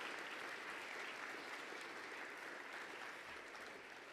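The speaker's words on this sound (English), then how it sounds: "How about one more round of applause for all of our scholarship winners?" A round of applause for scholarship winners at a school awards ceremony, steady full clapping from a crowd that stays even throughout, heard faintly as if from across a hall, fading slightly at the end.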